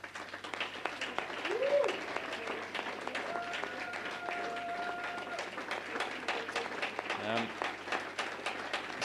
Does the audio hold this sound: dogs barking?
no